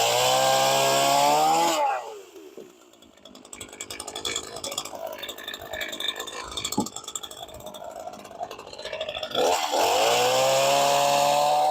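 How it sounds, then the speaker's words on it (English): Chainsaw in a camp setting in Arizona, revving loudly at the start and end with a lower, uneven cutting or idling stretch between, close and dominant throughout. "The new chainsaw worked"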